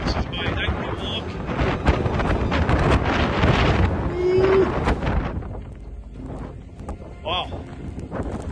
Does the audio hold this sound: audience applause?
no